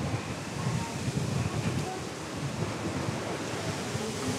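Wind blowing at a beach beside a bay, a constant broadband rushing noise with gusty low rumbling, loud and close to the microphone throughout.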